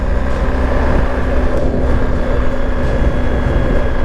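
A BMW GSA 1250 boxer twin motorcycle engine drones steadily and loudly while riding, with continuous road and wind rumble and no talking.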